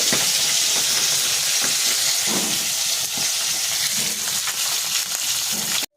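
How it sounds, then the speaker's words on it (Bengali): Two fish fry in hot oil, a loud, continuous hissing sizzle with faint clicks and pops throughout, ending in a sudden cut. "আরও দুটো মাছ ভাজতে দিলাম।"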